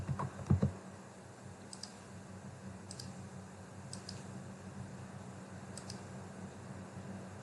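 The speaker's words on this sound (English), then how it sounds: "suppose I am typing here another name" Computer keyboard typing during Python coding in Visual Studio Code, with a quick burst of clicks at the start followed by sparse, scattered keystrokes over a faint steady fan-like hiss.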